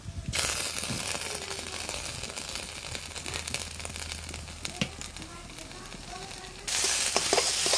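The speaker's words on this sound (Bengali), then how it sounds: "এখন আমি একটু করে সস দিয়ে দেব।" Sauce poured into a hot frying pan, sizzling and crackling steadily at close range, with occasional stirring clicks and a louder burst of sizzle near the end.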